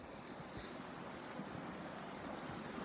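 A waterfall pours over rocks beside a newly installed bridge at a Colorado wedding venue still under construction, at dusk in December. It makes a steady, dense, unbroken rush with no voices.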